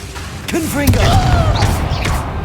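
A Confringo fire-blast spell cast in Hogwarts Legacy goes off in a few sharp, crackling bursts with whooshing tails, mixed with brief vocal efforts and steady battle ambience.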